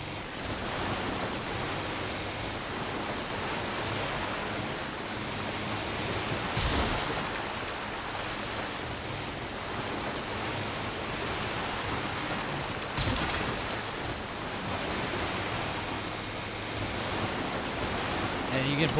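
Ocean waves washing steadily around a boat in the video game Resident Evil 4 Remake, a continuous rushing surf with two brief louder splashes, no voices.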